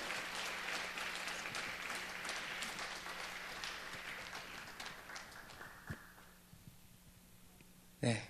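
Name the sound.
congregation applauding to welcome pastor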